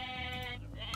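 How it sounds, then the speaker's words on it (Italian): Sheep bleating in the video game Age of Mythology Retold, a single close, loud, quavering bleat followed by a shorter second call within one second. "Pecore."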